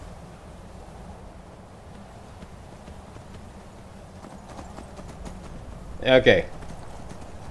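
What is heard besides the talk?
horse hooves clip-clopping, from a video game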